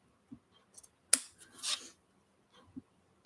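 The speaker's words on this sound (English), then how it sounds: "I'm just cutting along the pattern." Scissors snip through fabric along a sewing pattern beside fluffy trim, giving one sharp close cut followed by a softer slicing stroke and a few faint clicks in an otherwise quiet room.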